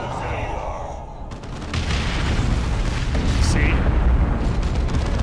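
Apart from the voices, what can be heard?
rocket launcher explosions in the video game Dawn of War II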